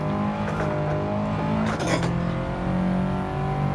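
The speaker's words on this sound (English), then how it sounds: "I'm revving out to well past 7." In Gran Turismo 7, a modified Toyota/Subaru sports car engine revs hard and loud, a sustained droning note climbing and dropping through gear changes, with faint tire noise and no speech.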